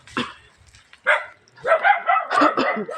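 Dogs bark in short bursts on a road, one early yap followed by a denser run of overlapping barks and yips toward the end, fairly close by.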